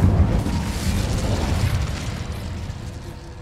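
An Incendio fire spell blasts in Hogwarts Legacy, a loud whooshing burst of flame that hits hard at once and then roars and fades over a few seconds.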